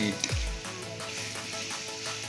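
Steady, loud sizzling of spicy northern Thai pork being stir-fried in a hot pan, a continuous close hiss with a brief scrape of stirring near the start.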